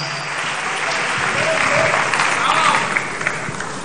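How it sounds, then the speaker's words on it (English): Audience applause at a youth event speech in Ghana, a sustained burst of many hands clapping that swells and holds, then thins out near the end. "Clap your hands."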